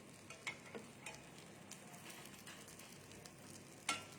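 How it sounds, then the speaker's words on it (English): Food frying in butter in a pan on a home cooking stream, a soft steady sizzle at low level with a few light clicks of a utensil stirring, no voices. "we'll fry this in butter"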